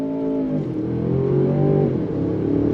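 A 2023 Range Rover Sport luxury SUV with an 8-speed automatic accelerates hard on throttle, its engine note rising and falling through gear shifts, heard loud and steady from inside the cabin.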